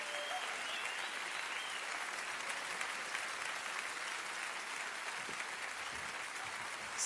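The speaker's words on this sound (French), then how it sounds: "continuer à applaudir" An audience applauding during a grand-illusion magic show by Hans Klok, a sustained, dense wash of clapping from a large crowd that holds steady throughout.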